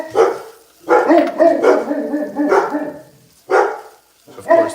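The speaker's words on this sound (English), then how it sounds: "Of course, the dogs. It's always the dogs." Dogs bark indoors in a home kitchen, loud and close, in several bursts of rapid barks with short gaps between them, some yips mixed in, and no talk over them.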